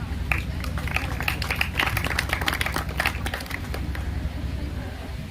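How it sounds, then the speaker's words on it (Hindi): Students give a sparse, half-hearted round of clapping at a 15th August school gathering, thin scattered claps over background murmur and voices. "ताली में तो तुम लोग का जान ही नहीं लगता है।"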